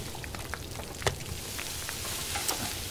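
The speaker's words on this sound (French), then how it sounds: "Je suis en train de faire cuire tout le lapin que j'ai." Rabbit meat cooks in the video game The Long Dark, giving a steady close sizzle and frying crackle with occasional small pops over a continuous hiss, with no one talking.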